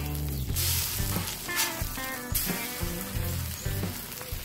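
Eggs frying on a Blackstone griddle in silicone rings, a steady close hiss of sizzling fat with faint crackles and spits throughout, no voices.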